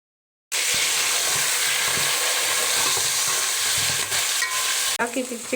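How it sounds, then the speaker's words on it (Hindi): Chicken sizzles in hot oil with whole garam masala, ginger paste and salt, a loud steady frying hiss broken by soft stirring scrapes, then it cuts off near the end as a few louder clatters follow. "बाकी चिकन को मैं थोड़ी देर के लिए भून रही हूँ।"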